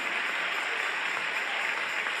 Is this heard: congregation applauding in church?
yes